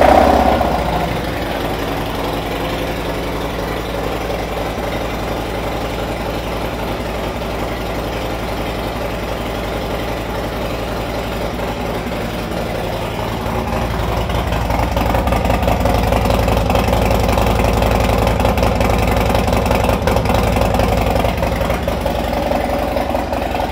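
A 2018 Harley-Davidson Road Glide Special motorcycle engine idles steadily and loudly up close, a continuous low rumble that swells slightly in the second half, with no talking.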